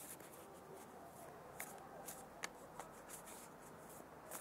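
Oracle cards shuffled and drawn during a tarot-style reading, a soft continuous papery rustle with a few sharper flicks and slaps, close and quiet, without speech.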